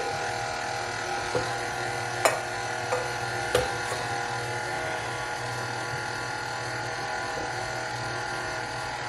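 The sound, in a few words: KitchenAid stand mixer running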